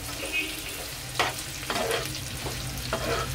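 Onions frying in a pan for vegetable chow mein, with a soft continuous sizzle and a few distinct scraping stir strokes spaced about half a second apart, heard close up.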